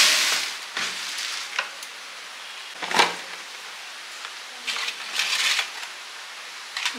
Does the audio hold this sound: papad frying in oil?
yes